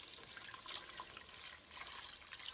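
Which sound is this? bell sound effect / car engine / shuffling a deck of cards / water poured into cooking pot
water poured into cooking pot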